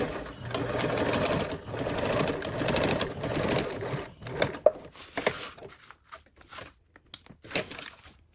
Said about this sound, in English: Top stitching with a 1/8.